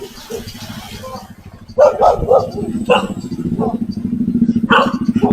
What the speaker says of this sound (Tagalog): Dami palang aso dito.